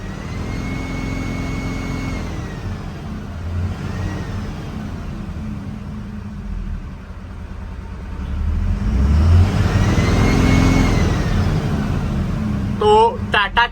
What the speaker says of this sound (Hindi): काफ़ी पावरफुल इंजन है।